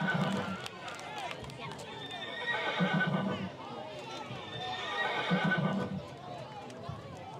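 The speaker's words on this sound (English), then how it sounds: "Just got spammed with a horse sound effect again." A horse neigh sound effect plays over the crowd at a middle school football game, two loud whinnies with a galloping run behind them, while a commentator talks under the noise.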